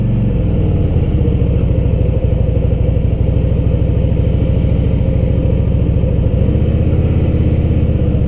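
Motorcycle engine holding a steady, loud idle-like rumble with a fine rhythmic pulse during a slow clutch-controlled turn, unchanging throughout, with no voices.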